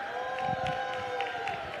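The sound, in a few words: audience cheering for a jai alai player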